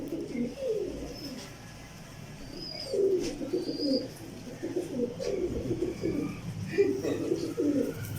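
Pigeons coo in repeated soft, throaty bursts at close range, with a few faint chirps and light background noise around them.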